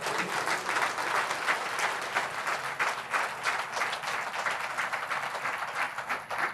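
Sustained audience applause at a Tamil religious talk on faith, dense and steady many-handed clapping filling the hall at even loudness throughout, with no speech over it.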